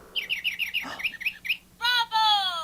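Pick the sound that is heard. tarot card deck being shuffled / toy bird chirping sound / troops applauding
toy bird chirping sound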